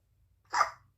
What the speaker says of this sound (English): My baby is having hiccups.